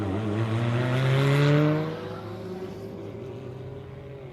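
A little Gemini drag car roars off the line at a dragstrip, its engine climbing loudly in a hard run and then fading as it pulls away, with no talk over it.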